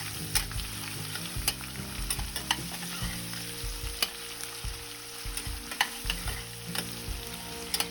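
Onion and green chillies sautéing in a pan for tomato rice, a steady close sizzle of frying with repeated scraping and stirring knocks from a spoon, no talking.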